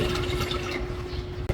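A glass of water pours into a pot of vinegar sauce for papaya atsara, a short, close splashing gush with a steady tone, ending in a brief knock.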